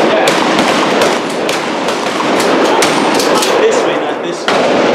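A tactical shotgun fired during a training drill, with several loud, sharp reports spread across a noisy, windy outdoor background.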